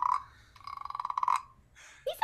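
A performer imitates a sick frog with a throaty voiced croak, first a short groan, then a pulsing rattling run of rapid croaks that fades, and a brief squeak at the end, close and fairly quiet.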